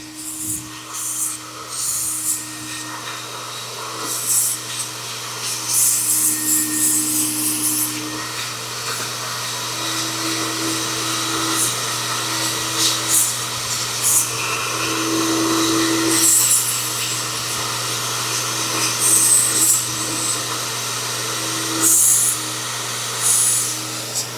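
A carpet extractor drying the carpet of an Audi A6 Wagon, whining with a steady, close mechanical drone and a sustained tone that shifts slightly as the tool is moved, with no speech.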